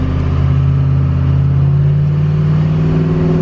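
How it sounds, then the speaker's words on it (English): A car towing a new aluminum trailer accelerates, its mid-pitched engine note climbing steadily and loudly throughout with no talking. "Let's see how the acceleration feels with a trailer behind us."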